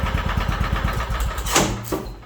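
A John Deere 240 lawn tractor's small engine idling steadily close by, a rapid even putter with a brief rise in revs near the end.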